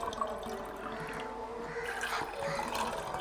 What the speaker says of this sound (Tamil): நாங்கள் தண்ணி வந்து கிளாஸில் ஊற்றிட்டு ஐஸ் போட போகிறோம்